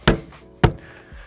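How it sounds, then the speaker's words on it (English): A camper van window frame is banged into its rubber seal with two sharp, close knocks about half a second apart, each followed by a brief ringing decay. "So right now I'm banging the frame in"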